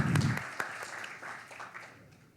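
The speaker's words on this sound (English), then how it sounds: "A big round of applause goes to you, Ms. Salam." Applause from the audience at a startup pitch event, honouring a panel judge; a fuller burst at the start thins into scattered clapping that fades over a couple of seconds.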